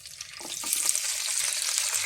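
Chopped capsicum drops into hot oil that has been used for frying cauliflower and bursts into a loud, dense sizzle that holds steady close by.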